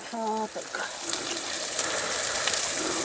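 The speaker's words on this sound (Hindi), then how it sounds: "हाँ जी, हो गई पोहे की तड़का" A tadka for poha sizzles in a pan, a steady broadband hiss of hot oil lasting throughout, preceded by a brief tonal beep at the start.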